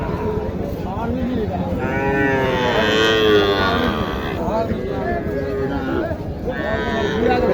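Several cattle moo loudly and close by over the constant hubbub of a crowded cattle market in Naogaon, Bangladesh, where people talk and call out.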